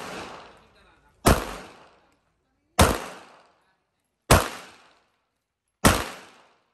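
Four sharp, loud bangs of action-movie style gunfire, evenly spaced about one and a half seconds apart, each a sudden crack with a short decaying tail, sounding alone without talk.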